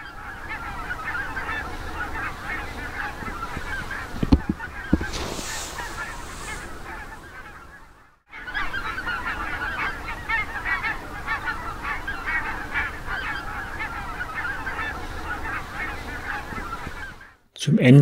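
A large flock of migrating geese grazing on meadows honks continuously, a dense overlapping clamor that drops out briefly midway, then resumes just as loud.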